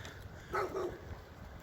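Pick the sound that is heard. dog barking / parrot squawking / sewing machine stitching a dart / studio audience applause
dog barking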